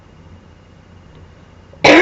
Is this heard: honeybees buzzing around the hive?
no